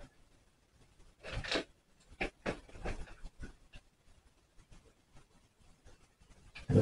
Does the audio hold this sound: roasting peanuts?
no